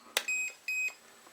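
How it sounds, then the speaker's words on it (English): A 2.4GHz radio control transmitter for a live steam locomotive switches on: a click followed by two short electronic beeps, evenly spaced, close and clear in a quiet room. "Switch on, you get a couple of beeps"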